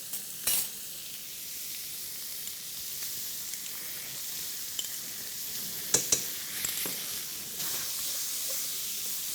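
Beef and okra fry in a pan with a bright, continuous sizzle and hiss, punctuated by occasional sharp crackles and spatters as the food is stirred.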